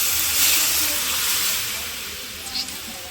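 Vegetables hit a hot pan in a village kitchen, releasing a loud, broad sizzling hiss of steam that gradually fades, with a brief soft clatter near the end.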